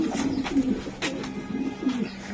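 A racing pigeon gives soft, repeated low coos close to the microphone, a few rolling calls in quick succession against a quiet background.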